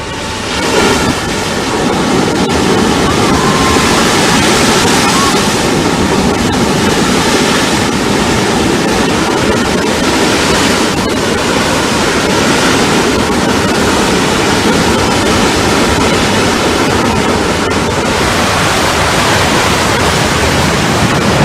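Godavari River water gushes from the outlet of the Kaleshwaram project's delivery canal in a loud, unbroken roar lasting the whole stretch, with some wind buffeting and no voices.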